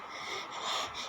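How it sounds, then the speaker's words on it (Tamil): Heavy, breathy panting from a person, a quick run of loud, close gasps and wheezy exhales lasting about a second with no words. "எதுக்கு இப்படி மூச்சு வாங்குது உனக்கு?"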